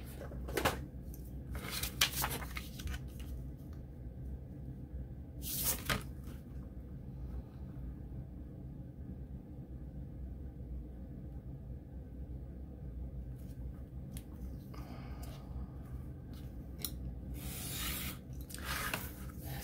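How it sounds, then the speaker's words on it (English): Knife slicing the top off a package at a desk, several short scraping and rustling cuts spread out over a low background rumble, close but quiet, no talking. "I'm just going to cut the top off."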